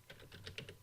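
Keys on a computer keyboard tapped in a quick run of about six soft clicks, close but faint over a low hum.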